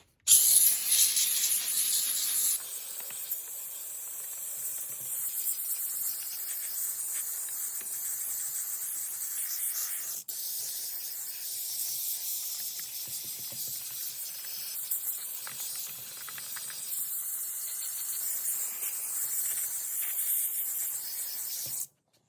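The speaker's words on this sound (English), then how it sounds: "Got my steam cleaner." A continuous hissing spray of steam from a steam cleaner, used while servicing a Windsor Sensor XP12/XP15 vacuum, runs steadily for about twenty seconds, with slight shifts in tone and a louder burst at the start.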